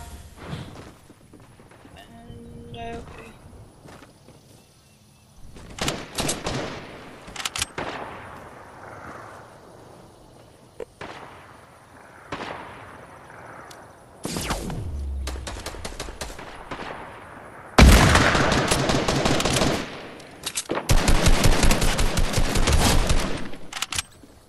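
Video game sniper and gun fire: sharp sniper cracks and machine gun bursts break out in separate loud clusters between quieter gaps, with heavy sustained volleys near the end.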